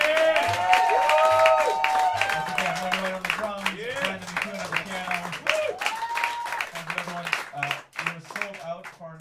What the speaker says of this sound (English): Please keep that applause going for the great Buster Williams.